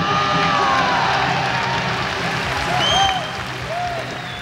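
A women's pro wrestling arena crowd cheers and applauds for Dynamite Kansai in a steady roar, with scattered shouts and whistles rising briefly near the end.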